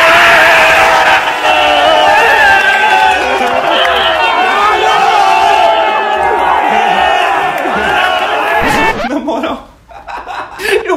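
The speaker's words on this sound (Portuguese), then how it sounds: "a torcida comemora como se fosse um gol" A large crowd of Corinthians fans roars loudly in a football stadium, a dense sustained cheer with shouting and chanting voices that drops off sharply near the end.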